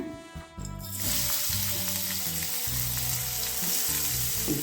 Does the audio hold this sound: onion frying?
yes